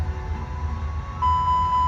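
Engine 2 fire alarm test on an Airbus A319 in X-Plane 12: a continuous electronic warning tone switches on abruptly near the end, loud and steady above the low rumble of the cockpit.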